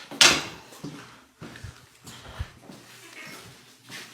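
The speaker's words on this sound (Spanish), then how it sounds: "A lo mejor alguien está tocando." Several irregular knocks or thumps on a door inside a home, with a loud sharp hit near the start followed by softer scattered bumps, heard close with faint room noise between.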